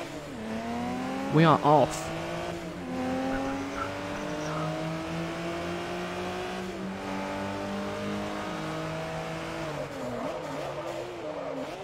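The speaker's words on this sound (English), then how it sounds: "Bloody hell, that's a good sounding engine." Car engine in Forza Motorsport 3 revving up through gears with rising and falling tones and shifts, steady and close throughout, with a brief tire squeal early on and someone talking over it.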